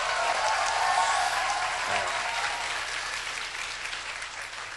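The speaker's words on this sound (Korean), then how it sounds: "우리 다시 한번 힘차게 하나님께 영광의 박수를 돌리십시다." A church congregation gives a vigorous round of applause to God, a dense, loud wash of clapping that swells at the start and gradually thins toward the end.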